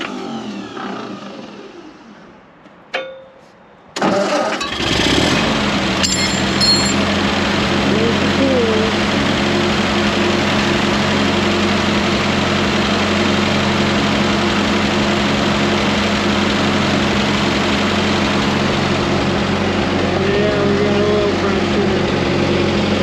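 An old, cheap auction tractor engine catches after a few seconds of quieter sounds, then settles into a loud, steady, close idle while warming up.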